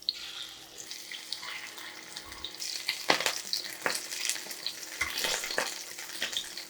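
Steady sizzling and crackling of shrimp pancakes frying in a pan, with occasional sharp pops and splatters rising above the hiss.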